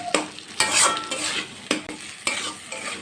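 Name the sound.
stirring and sautéing potato filling with spices in pan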